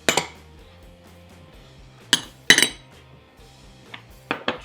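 Ingredients for Creole seasoning are tipped into a large bowl, heard as a few sharp clinks and rattles of containers and spoons against the bowl, spaced out over a quiet background.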